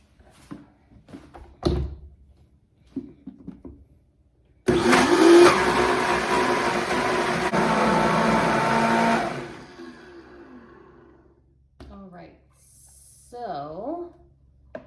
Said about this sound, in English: I'm gonna go ahead and put my lid on and process it until it is smooth.